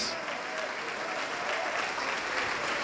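Church congregation applauding during a Portuguese-language worship service, a continuous wash of clapping heard faintly and at a distance, steady throughout with no clear individual claps.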